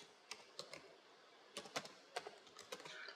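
Keys tapped on a computer keyboard to enter a password at a login screen, sparse quick clicks in small bursts, faint and close with no talking.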